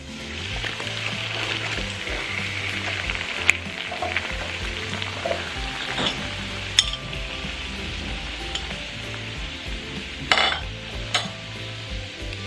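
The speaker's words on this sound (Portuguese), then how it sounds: "Agora a gente junta a água fervendo e junta também a manteiga." Boiling water and butter go into melted sugar for caramel, making a continuous loud sizzle and bubbling with occasional utensil clinks against the pot.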